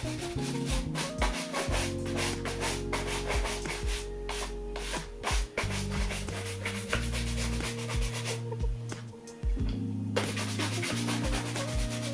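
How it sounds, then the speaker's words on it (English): Continuous brisk rubbing as waxed Pikolinos leather shoes are buffed with a cloth or brush, a steady scratchy swishing heard throughout under loud background music. "Let's give them a little buff and we'll see how they come up."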